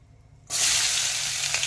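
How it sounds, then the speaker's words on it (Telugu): Onions drop into hot oil for a dried fish and brinjal curry. After half a second of quiet, a loud, close sizzle erupts and holds steady as the onions fry, with no voices. "ఎండు చేపల వంకాయ పులుసులో ఫస్ట్ ఉల్లిపాయలు వేసుకుందాం."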